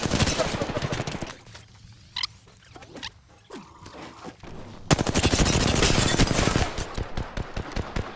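Rapid automatic gunfire in Apex Legends, loud close bursts of rattling shots, a pause with scattered single reports, then another long sustained burst tapering into separate shots.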